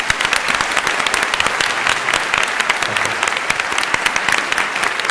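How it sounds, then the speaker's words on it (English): A live debate audience applauds to congratulate a moderator on his third Emmy Award, a dense, steady clatter of many hands clapping at close range, continuous and even throughout with no talk over it. "I'd like to invite a round of applause to congratulate him on his third Emmy Award."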